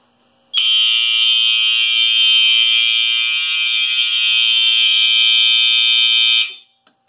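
A fire alarm panel sounds after a detector is tested. A loud, continuous, high-pitched electronic tone holds steadily for about six seconds, then stops abruptly.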